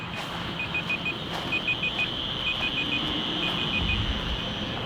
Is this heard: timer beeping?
yes